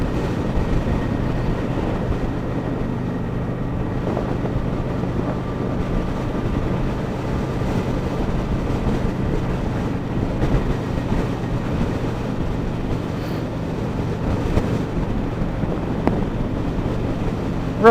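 Steady engine drone of a naked 900 motorcycle with a larger front pulley, on the move on wet roads, blended with constant wind rush against the microphone, with no talking.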